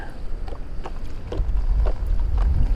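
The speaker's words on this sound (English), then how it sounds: "Ooh, that wind." Steady wind on open water buffets the microphone with low rumbling gusts that grow stronger toward the end, with faint clicks underneath.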